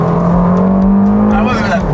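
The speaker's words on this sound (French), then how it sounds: "Sortie de virage, on accélère." An Abarth Stage 3 car accelerates out of a corner, its engine loud and close with a steady rising drone and a climbing whine toward the end.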